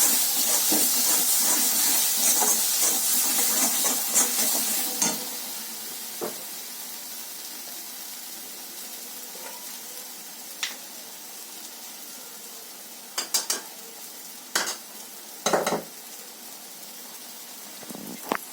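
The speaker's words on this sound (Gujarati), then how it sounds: "અને સારી રીતે હલાવી લઈશું" Spices stirred into broccoli in a hot pan, a loud steady sizzle and hiss in the first seconds that settles to a quieter simmer, followed by a few sharp clinks of a spoon against the pan.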